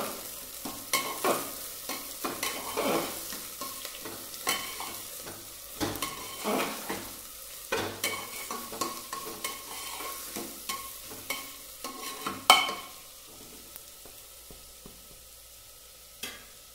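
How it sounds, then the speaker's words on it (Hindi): Mutton masala with cinnamon leaf and chopped coriander fries in a pan with a steady soft sizzle, while a spoon scrapes and stirs in repeated strokes, with one sharper knock near the end. "अब हम इसे 10 मिनट तक फ्राई होने देंगे।"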